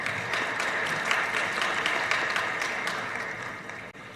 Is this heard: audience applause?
yes